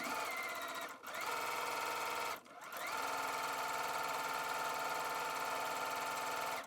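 A sewing machine stitches a strip of joined fabric with a steady, continuous mechanical whir, close and loud, pausing briefly twice before running on.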